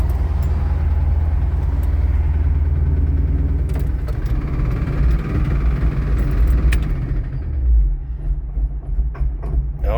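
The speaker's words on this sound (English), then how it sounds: "Oh, she's dieseling." The engine of a 1965 Ford Thunderbird runs on with the ignition off, producing a loud, steady, uneven low rumble close by. The rumble wavers and surges briefly near the end.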